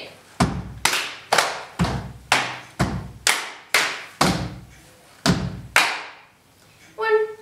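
Sharp, loud percussive hits land in a steady rhythm, about nine in a row, each with a short decay, then a brief burst of voice at the end, fitting hand claps or stamps in a dance routine.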